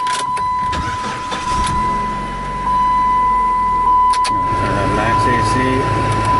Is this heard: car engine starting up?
yes